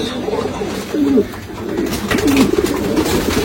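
Rampuri pigeons give two soft, throaty coos about a second apart, close by, over a low murmur of background noise.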